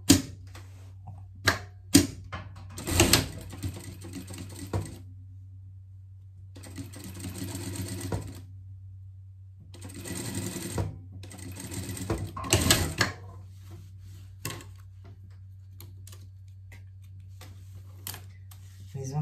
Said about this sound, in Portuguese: E aqui eu vou passar uma costura